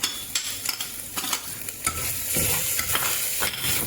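Masala of chili powder, garam masala, dhana jeeru and haldi frying in a pan for mutton kheema patties, with a close, steady sizzle broken by repeated scraping stirs, no voices.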